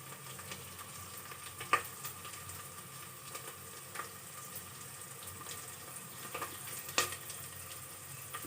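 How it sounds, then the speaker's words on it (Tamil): Tamarind extract is poured into a cooking pan, giving a steady wet hiss and sizzle with a few sharper clinks, close up and without talking. "அப்புறமா புளி கரைசல் ஊற்றணும்"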